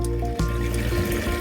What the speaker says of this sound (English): now I am draining the machine